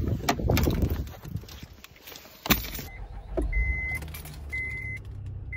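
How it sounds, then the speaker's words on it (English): A car is started up by its driver: rustling and clicks inside the cabin, a sharp clunk, then the engine catches into a steady low idle, with a couple of short electronic chimes. "there is a clip of me starting my car"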